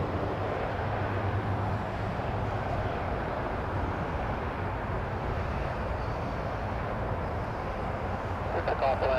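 Jet airliner engine roar from a Condor plane at Toronto Pearson Airport, a steady loud broadband rumble that holds evenly throughout, with people talking over it.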